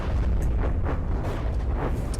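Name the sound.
torpedo hits exploding in the video game From the Depths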